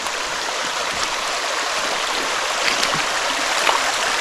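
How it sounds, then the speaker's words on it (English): Small creek waterfall after a flood, a steady broadband rush of flowing water heard close with no voices. "nice little waterfall area right here"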